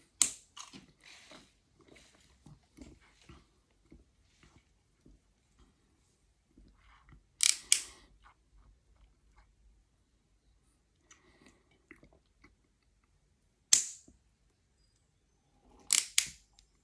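Crunchy bites and chewing of Electric Blue and Orange fusion candy bars, a few loud crisp bursts near the mic separated by quiet stretches of softer mouth sounds.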